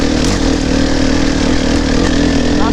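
A 4-stroke enduro motorcycle engine pulls hard in fourth gear with a loud, steady, close drone and a constant throbbing rumble.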